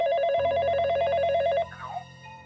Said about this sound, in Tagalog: biglang tumunog ang telepono